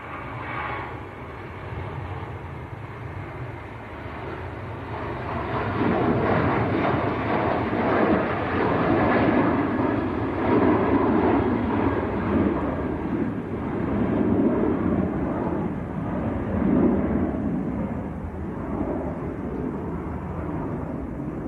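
A TUI passenger jet on its takeoff roll at Manchester Airport, a broad distant engine roar that builds steadily and holds for the whole stretch, alone without talk.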